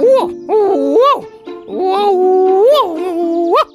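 A dog gives loud, drawn-out howling barks in several rising and falling bursts with short gaps between them, close and with nothing else behind it.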